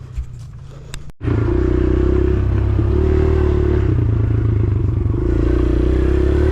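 A Honda CRF150R dirt bike on a trail gives a loud, steady engine drone after a brief rustle and clatter, running continuously close by with slight rises and dips in pitch, with no talk.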